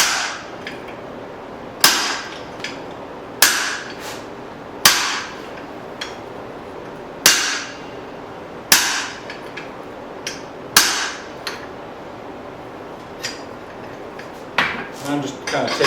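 A hammer forges a spring steel hatchet on a guillotine tool with about ten loud, close, sharp metallic strikes, spaced roughly every second or two, each ringing briefly before fading.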